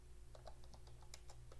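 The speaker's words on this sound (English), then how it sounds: "I'm going to start typing" Rapid keystrokes on a computer keyboard while entering text into GIMP on a Linux machine: a quick, uneven run of light clicks, close and fairly quiet, with no talking.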